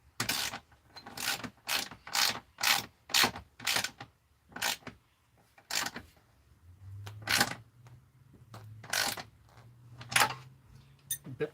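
Ratchet wrench tightening a bolt on a rack, a rapid series of sharp metallic clicking bursts in an uneven rhythm with short pauses between strokes, close and clear, with a faint low hum underneath in the later part.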